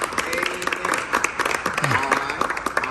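A Sunday school congregation applauds their teacher in a church setting: a dense, continuous patter of many hands clapping, with voices talking underneath.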